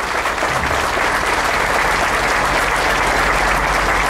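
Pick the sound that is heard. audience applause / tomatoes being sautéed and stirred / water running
audience applause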